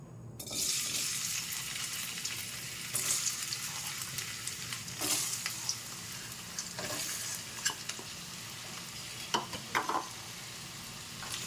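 Potato pieces fry in hot oil with a steady sizzle while a spoon stirs now and then, scraping and knocking against the pan at irregular moments, close and fairly quiet.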